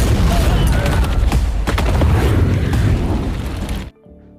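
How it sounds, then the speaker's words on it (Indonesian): An explosion in an Indian action film, set off when a drink is thrown into a fire, heard as a dense run of loud booms and crackling bursts that stop abruptly near the end. "Namun Arjan melempar minuman itu ke dalam api dan menyebabkan ledakan."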